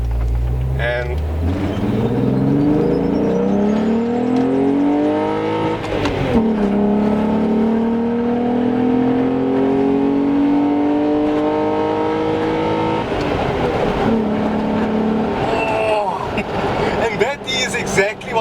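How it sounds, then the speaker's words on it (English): A 1992–98 VW Golf VR6 pulls away hard in first gear after a clutch drop, its engine note climbing steadily in a loud, continuous rev with a brief gear change midway, and a voice speaks over it. "We're gonna gear the car down into first gear, do a bit of a pull away"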